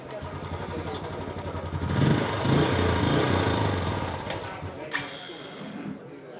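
A 2021 Royal Enfield Bullet motorcycle at a bike auction fires up, its engine swelling into a loud thumping idle that settles and fades slightly, with voices talking nearby.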